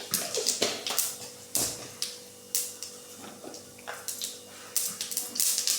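Mustard seeds, cumin and urad dal splutter in hot oil, a run of loud close popping crackles in uneven bursts with brief gaps between them.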